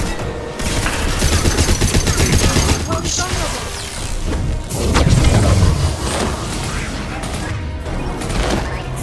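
Heavy gunfire fills a firefight in the video game Mass Effect 2, with dense, continuous bursts of shots, booms and mechanical clatter, loud and sustained throughout.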